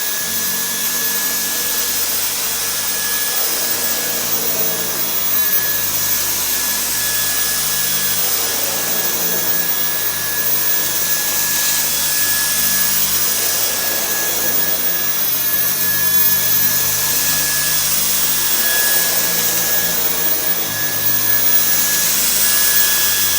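A Dyson V10 Cyclone cordless vacuum cleaner runs continuously with a loud, steady high-pitched whine and airy rush, its suction rising and dipping slightly as it works.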